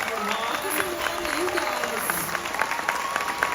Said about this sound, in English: Another round of applause to the Kathryn